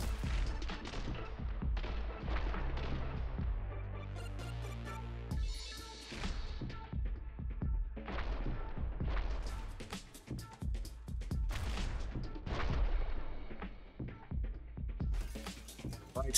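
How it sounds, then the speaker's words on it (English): Shotgun blasts in the video game The Hong Kong Massacre, dense repeated booms layered over a busy, loud game soundtrack, with talk running under the action. "Shotguns."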